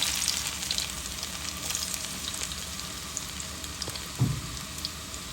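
Chopped garlic and Bengali five-spice (panch phoron) sizzle in hot oil for a dal tempering. A steady, close crackle and hiss goes on throughout with small pops, and one louder spatter comes near the end.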